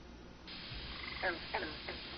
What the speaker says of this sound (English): The frogs are sitting there chirping